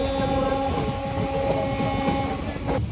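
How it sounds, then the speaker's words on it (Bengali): Train leaving Kasimbazar station, a close continuous rumble of moving carriages with a sustained tonal drone over faint wheel clatter. "ট্রেন ছেড়ে দিল কাশিমবাজার স্টেশন, পরবর্তী স্টেশন বহরমপুর কোর্ট"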